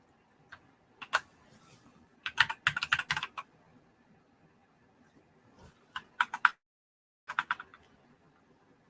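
Bursts of typing on a computer keyboard, close and crisp, come in quick clusters of clacking keystrokes separated by short pauses and one near-silent gap, with no voices over them.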